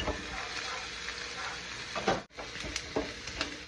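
Pork ribs sizzle in a pan with onion and garlic, a steady close hiss of frying with a brief stirring scrape partway through.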